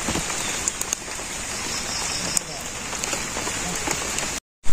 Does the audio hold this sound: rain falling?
yes